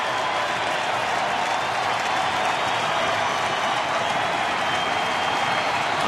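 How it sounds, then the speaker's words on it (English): Baseball stadium crowd at a Mets–Braves game rising to its feet, a constant loud wash of cheering and applause filling the whole stretch without letup. "Crowd starting to get on its feet."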